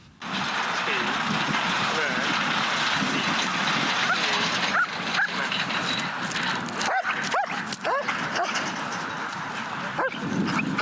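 A National Guard service dog barks and yips repeatedly amid a busy outdoor background with rumbling noise, the barks sharp and close, recurring in short bursts.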